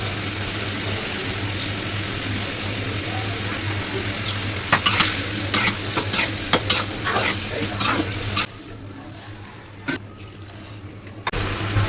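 Fried fish is sautéed in a pan, with close, steady sizzling and bursts of spatula scraping and clatter in the middle before the frying quiets down; brief faint voice traces.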